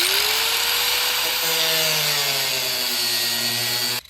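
Angle grinder cutting a slot into the rear bumper of a BMW E36 328ti Compact, a loud continuous whine with shifting pitch as the disc bites, steady for about four seconds before cutting off abruptly.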